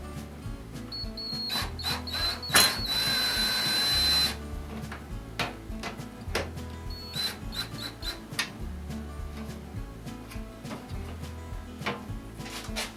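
A power drill runs briefly to tighten a fastener, a short steady whir of about a second and a half set among scattered clicks and handling noises, with quieter clicking before and after.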